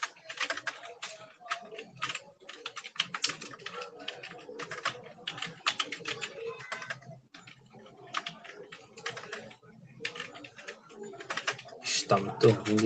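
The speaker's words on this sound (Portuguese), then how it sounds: "Está muito ruim de digitar aqui." Rapid, steady typing on a small computer keyboard during a Python programming lesson, dense clicking with brief pauses and pigeons cooing faintly in the background.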